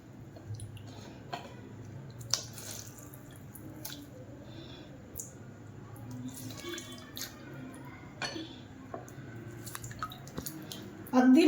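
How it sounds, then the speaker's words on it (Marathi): Soaked dahi vadas are pressed by hand so water drips and squishes out of them in soft, irregular drops and squelches close by, under someone talking. "याचं थोडंसं पाणी काढून घेतेय"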